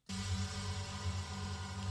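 A steady low film-score drone holds unchanged from start to finish, a sustained hum with layered tones and faint shimmering upper texture, no voices.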